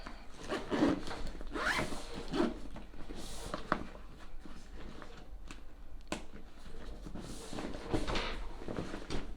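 Someone zips up a Longchamp Le Pliage backpack, with several quick rasping zipper pulls in short bursts, close and clear, and no talk over them.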